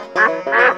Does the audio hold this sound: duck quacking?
yes